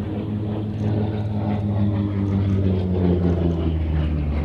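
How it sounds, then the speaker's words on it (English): Grumman Bearcat propeller fighter climbing after takeoff at an air festival, a loud sustained engine roar with a deep throbbing drone that swells slightly as it pulls away, heard without talk. "you can see the aircraft climbing there now"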